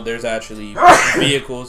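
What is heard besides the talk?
sneeze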